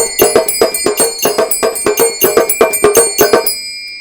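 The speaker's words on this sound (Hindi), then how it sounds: "इस तरह की आरती मशीन मंगवा सकते हैं, जो कि विद शंख, विद मोर, विद भजन आपको मिलने वाली है" An electronic aarti machine plays temple bell sounds: about sixteen bright, ringing metallic strikes at a steady, quick rhythm, loud and close, with the last ring fading out.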